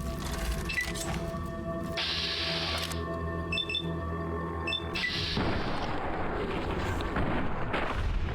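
Gunfire in the video game Fallout New Vegas, a few sharp booming shots set among game sound effects and music, fairly loud and close with no clear talk over them.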